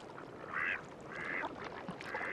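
Mallard ducks quack in three raspy bursts spaced across a couple of seconds, fairly close over a steady outdoor background hiss.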